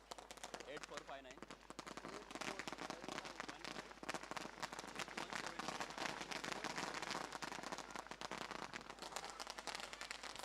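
A string of firecrackers crackles in a dense, continuous rapid burst at an outdoor tournament prize ceremony finale, loud and unbroken, with an announcer talking over it.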